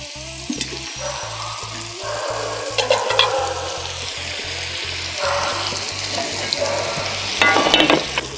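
A mutton burger patty sizzling in a hot pan, a steady close frying crackle with brief scraping and handling noises, over a pulsing low hum, with no talk.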